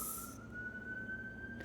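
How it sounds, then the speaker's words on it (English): A single siren tone wails faintly in the distance, rising slowly in pitch over steady low traffic rumble. "I was just waiting for the sirens to stop there"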